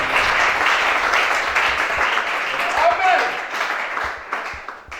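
A church congregation at a worship service bursts into applause and cheering, a thick wash of clapping that swells, then thins out toward the end with a few scattered claps.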